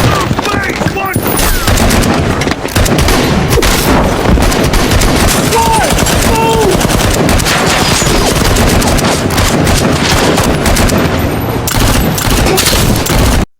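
Loud, dense bursts of rapid gunfire in a film shootout, crackling almost continuously, with sharp repeated shots layered over one another.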